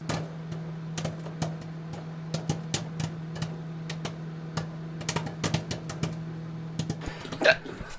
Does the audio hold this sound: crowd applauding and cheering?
no